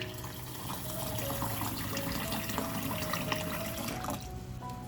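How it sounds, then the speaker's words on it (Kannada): Water poured from a tap or jug into a bowl in a home kitchen until a washed soaking ingredient is fully submerged; a steady, continuous splashing and trickling fill, fairly close, with no talking. "ಇವಾಗ ಅದು ಮುಳುಗುವಷ್ಟು ನೀರನ್ನು ಹಾಕ್ಕೊಳ್ಳೋಣ"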